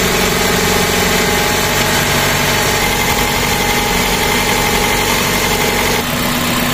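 Toyota car engine idling during a radiator and engine block flush, a loud, steady mechanical drone with vibration that holds constant and then shifts slightly near the end, no talking.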